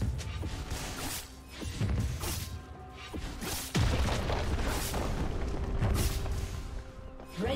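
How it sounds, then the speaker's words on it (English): Turret destruction in League of Legends: heavy booms and crashing impacts with whooshes and mechanical clatter, loud and continuous over busy game action, no voices. "Red team's turret has been destroyed."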